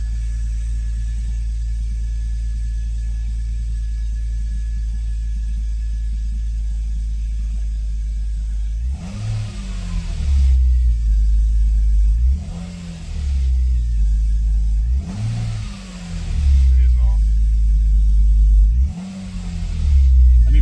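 A BMW M52 inline-six cranks for about nine seconds over a steady hum, then fires and runs with four loud, rhythmic revving surges close to the microphone.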